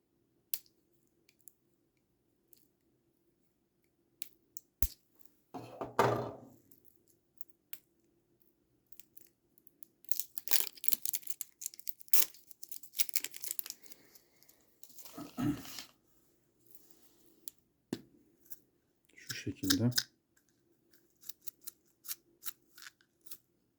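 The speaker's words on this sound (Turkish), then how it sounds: "Şu ölçüm çubuklarımızı bir açalım" Packaging of blood glucose meter test strips for an Optima meter is opened: quiet, close crinkling, tearing and snipping with sharp clicks in scattered bursts, with a low steady hum beneath.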